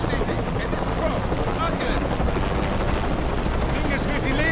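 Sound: helicopter flying in video game Shadow of the Tomb Raider

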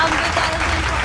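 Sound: applause

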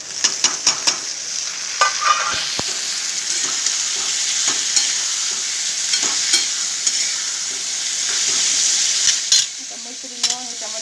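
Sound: tomatoes frying with browned onions, stirred

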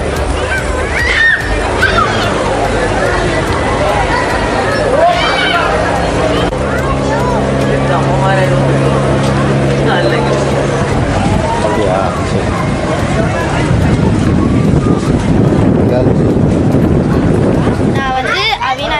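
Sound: tourist boat ride on lake

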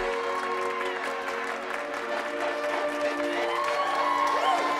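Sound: applause

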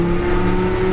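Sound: 1965 Ford pickup truck accelerating and shifting

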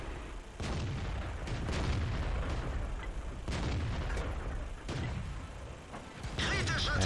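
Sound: tank cannon firing in World of Tanks video game

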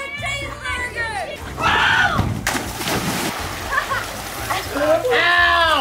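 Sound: water splashing in a backyard waterpark

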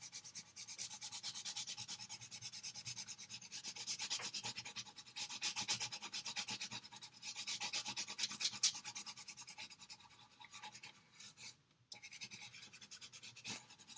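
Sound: coloring on paper with the side of a crayon

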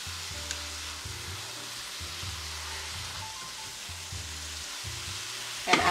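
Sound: tomatoes and seasoning cooking in a pan

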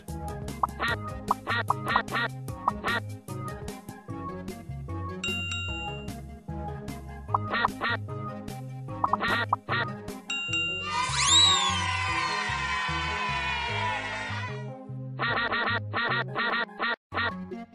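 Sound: ducks quacking in a video game

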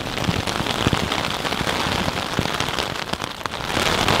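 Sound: rain falling on a tent

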